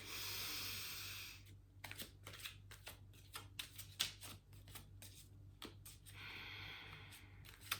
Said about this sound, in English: I'm gonna start shuffling my cards, my tarot cards